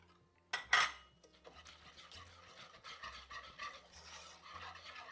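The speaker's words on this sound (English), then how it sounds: "keep stirring it now for another 2 minutes" Orange curd mixture stirred in a saucepan, opening with a sharp clank of utensil on metal, then repeated soft scraping and tapping strokes at a steady pace.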